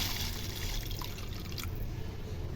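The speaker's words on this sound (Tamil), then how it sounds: "நான் இப்போ 2 டம்ளர் போல் தண்ணி ஆட் பண்ணிக்கிறேன்." Water pours into a pot for corn soup, a steady broadband splash and trickle running continuously at moderate loudness with no talk over it.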